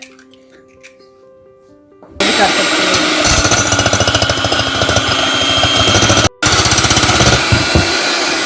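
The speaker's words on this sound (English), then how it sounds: "So to start off, we're going to whisk 1 egg." An egg is whisked for funnel cake batter: after a quiet start, loud, dense, rapid beating begins and continues steadily, broken by one brief pause near the end.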